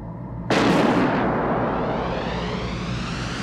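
A single loud gunshot from the 1986 action film Cobra, an abrupt close blast that rings out and decays slowly into a long, fading rumble.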